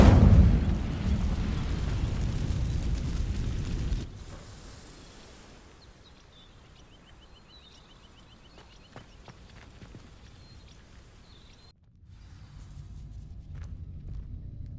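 A burst of fiery magic erupts as the Incendio spell ignites dry vines in Hogwarts Legacy, giving a loud rumbling whoosh for about four seconds before fading to a quiet ambience with faint chimes, then a low rumble returns.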